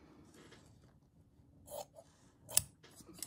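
Scissors trimming fabric background for slow stitchery, a few quiet close snips at irregular spacing in an otherwise hushed room.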